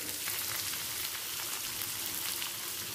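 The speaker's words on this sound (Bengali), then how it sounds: "পেঁয়াজ আর কাঁচা লঙ্কাটাও আর একটু ভেজে নেব।" Chopped onion and green chili frying in a pan, a dense, steady crackling sizzle close up with no pauses and no voices.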